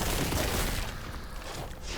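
Battlefield 1 gameplay gives a dense, loud wall of overlapping explosions and gunfire, a continuous rumbling roar with little break that thins slightly toward the end.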